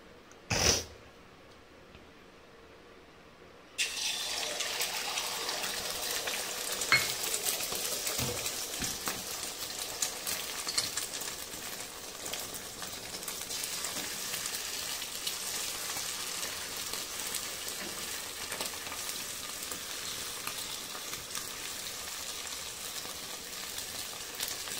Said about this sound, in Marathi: कढईत पण तेल टाकलेलं आहे। आता मग त्याला तेलात सोडू।